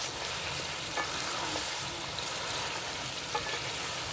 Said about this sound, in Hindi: तो टमाटर डालने लगी हूँ।